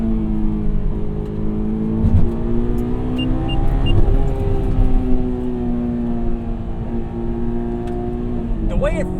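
A 2001 Honda S2000 AP1 rolls over a bumpy street, its engine humming steadily from inside the cabin while the road thumps and rumbles beneath, with someone talking over it throughout.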